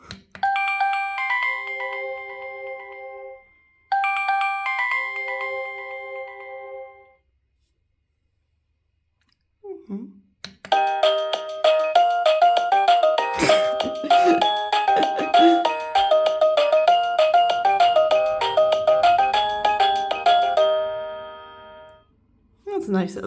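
Electronic doorbell playing chime tunes: two short identical melodic phrases with a gap, then a longer, busier multi-note melody ringing out clearly and alone for about ten seconds.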